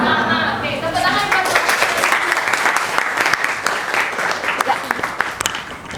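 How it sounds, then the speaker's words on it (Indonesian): Classroom applause fills the room as students clap together after a math exercise, a dense steady patter with some voices mixed in, loud and continuous throughout. "tepuk tangan"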